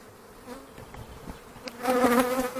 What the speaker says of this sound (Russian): Пчела работает,